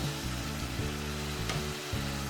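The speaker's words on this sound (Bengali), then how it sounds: "এখন মশলাটা একটু মিক্স করে দিতে হবে" Spice mix being stirred as it fries in a pan for a hilsa fish and bean-seed curry, a steady close sizzle with soft scraping strokes throughout, no voices.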